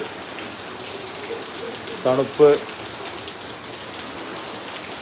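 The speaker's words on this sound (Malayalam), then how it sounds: "നല്ല മഴയാണ് അത്യാവശ്യം നല്ല മഴ" Heavy monsoon rain pours down in Kozhikode, a steady dense hiss throughout, with a brief pair of spoken words breaking in near the middle.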